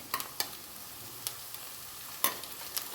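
Cabbage, carrot, beans and curry leaves frying in a pan for vegetable upma, a faint steady sizzle broken by a few sharp clinks and scrapes of a spatula stirring.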